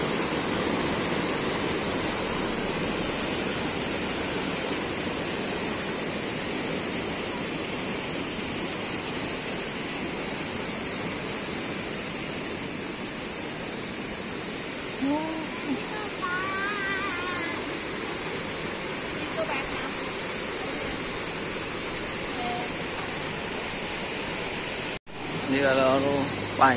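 A river rushes steadily near Ketchikan, a broad, constant wash of flowing water close by, with faint voices talking briefly over it and a sharp handling bump near the end.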